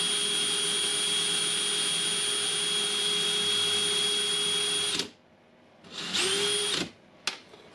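A DeWalt cordless drill with a replaced gearbox whines steadily at high speed for about five seconds, stops, then spins up again briefly with a falling pitch as it winds down.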